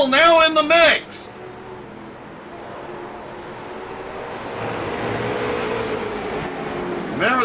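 Late model race cars roaring around a short oval at a motorsports double-header, engines droning and rising in pitch as they pass, with voices talking over the start and end.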